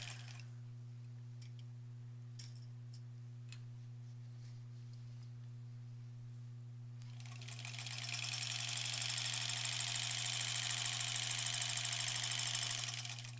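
A sewing machine stitching the sashing seam of a granny-square quilt, with a steady low motor hum and a few faint ticks before the stitching starts, then a continuous, even run of stitching for about six seconds.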